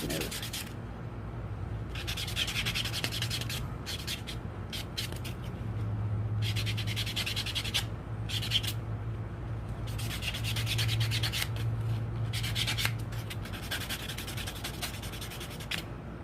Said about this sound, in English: we're going to take our polar block now, and this is going to come in, and this is going to buff it smooth